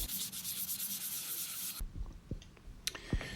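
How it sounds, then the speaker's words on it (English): Hand sanding an aluminium bicycle crank arm with 800 grit sandpaper: a close, hissing scrub of rapid strokes that stops abruptly partway, followed by a few faint knocks and handling sounds. "So after you've finished sanding the aluminium up to, with the help of an 800 grit sandpaper"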